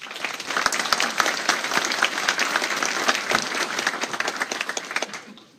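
An audience gives a warm round of applause to a speaker, with close, crisp individual claps standing out in a lively crowd clapping that holds steady, then thins to a few final claps at the end.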